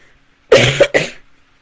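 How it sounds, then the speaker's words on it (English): A short burst of two coughs, close and loud, in otherwise quiet surroundings. "I've really got to cough, I'm sorry."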